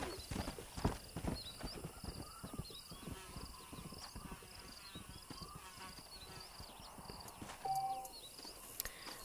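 Horse hooves clip-clop steadily on the ground in the Red Dead Redemption western game, with a brief whinny, crickets and insects chirping in the background and no talk over them.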